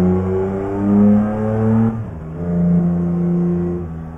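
BMW car in Euro Truck Simulator 2 on a road from Sakarya to Edirne, Turkey: a loud, close engine and exhaust drone that swells, dips briefly after a gear change, then rises again.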